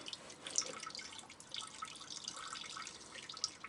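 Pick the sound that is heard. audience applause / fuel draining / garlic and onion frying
fuel draining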